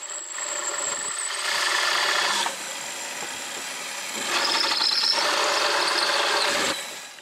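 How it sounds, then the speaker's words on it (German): A power drill bores a hole to final size in good wood for a workshop blast gate, whining steadily for two stretches with a brief lighter pause between them. "Und jetzt bohren wir die richtige Größe in das gute Holz."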